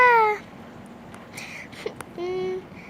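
A cartoon cat in the video game Avatar World gives two clear, high meows, one at the start and a longer one near the end, with soft quiet game sounds in between.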